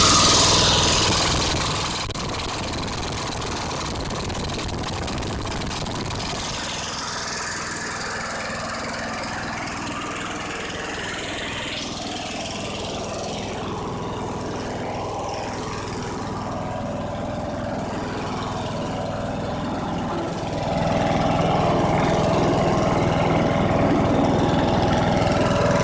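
A Kohler engine on a Cub Cadet lawn mower, just repaired after a cracked block, runs steadily with a continuous mechanical drone, getting louder near the end with no speech.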